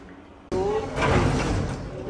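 Lift doors slide open with a sudden rumbling whoosh in a busy lift at a designer shopping outlet, followed by steady mechanical running and background crowd murmur.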